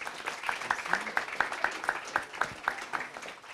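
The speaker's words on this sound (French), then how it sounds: "On peut l'applaudir s'il vous plaît." An audience applauds a composer at a film-music masterclass at the Les Arcs festival, steady mid-distance clapping from a modest crowd with crisp individual claps standing out.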